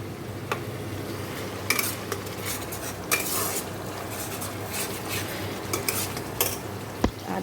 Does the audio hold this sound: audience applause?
no